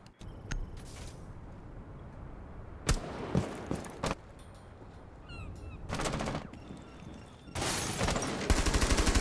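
Gunshots from Ace in Rainbow Six Siege come as a few sharp separate cracks, followed by louder rapid bursts of automatic fire near the end, all over faint ambient game noise without speech.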